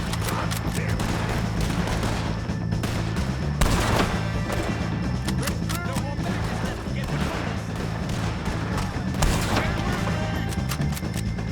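Repeated gunfire in Red Dead Redemption 2, with sharp shots and bursts that recur throughout over a steady low game background hum, with louder cracks around the midpoint and near the end.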